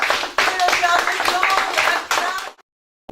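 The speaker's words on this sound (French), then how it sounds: "On s'applaudit." A small group on a film set claps together for a few seconds, loud and close, with voices mixed in, before the applause stops abruptly.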